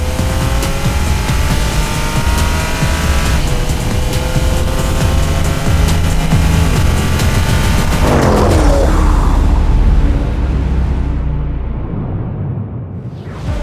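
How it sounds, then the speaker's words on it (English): Maserati Grecale Trofeo and Jaguar F-Pace SVR, SUVs with torque-converter automatics, launching hard off brake torque: a loud sustained engine roar that rises through the run, then fades toward the end, with no talking. "With their torque converter automatics, the Maserati and Jaguar launch with brake torque."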